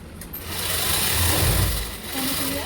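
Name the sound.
sewing machine stitching a lined blouse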